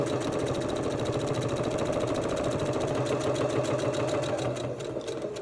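A domestic sewing machine with a needle-down feature runs along a fabric seam, giving a loud, even, rapid mechanical chatter that continues without pause and eases slightly at the very end.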